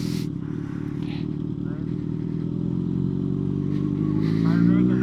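A motorcycle idles near a gate outdoors, its steady mid-pitched engine rumble continuous and close as the bike is backed up, with voices talking over it.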